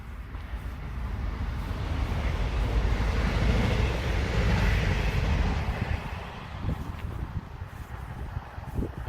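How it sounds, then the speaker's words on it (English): Cold wind blows hard across the microphone on an outdoor run, a steady roaring rush that swells in the middle and eases slightly toward the end. "the cold wind's getting colder"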